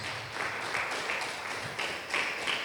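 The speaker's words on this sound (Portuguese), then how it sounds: "Pode aplaudir pela fé o nome do Senhor Jesus" A church congregation applauds, the steady wash of many hands clapping filling the room with a dense, even patter that swells slightly in waves, with no voices standing out.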